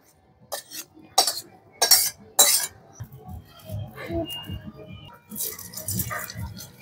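A pot of cooked cabbage is taken off a wood-fired stove, with a few sharp metallic clanks and rattles near at hand followed by softer clinks, and low talking underneath.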